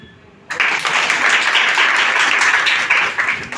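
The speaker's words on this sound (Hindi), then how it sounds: "ताली" A room of students at a Lucknow computer institute event bursts into clapping after a sung patriotic verse, starting abruptly from near silence and holding as sustained, close, fairly loud applause.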